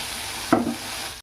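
Turmeric hits hot oil in a pan for Andhra-style egg pulusu, giving a single short burst of sizzle that settles into a soft, steady frying hiss, heard close and alone.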